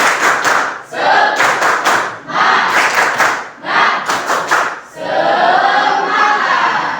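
A class performing the 'tepuk semangat' clapping chant: groups of rhythmic hand claps in quick clusters alternate with loud shouted group calls, ending in a sustained cheer.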